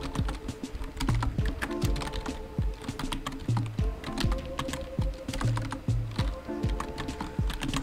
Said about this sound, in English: Press Ctrl D to duplicate and type your title.